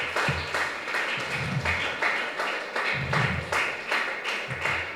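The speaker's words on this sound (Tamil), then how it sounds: "ஒரு எல்லாரும் சேர்ந்து ஒரு கைத்தட்டல் உங்களுக்கே" Students and an audience at a government women's school award event applaud together, with loud, sustained clapping and rhythmic swells of claps throughout.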